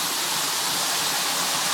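Water pours steadily over a reservoir waterfall, a dense, even broadband rush that holds constant throughout without any clear voices above it.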